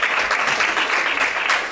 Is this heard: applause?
yes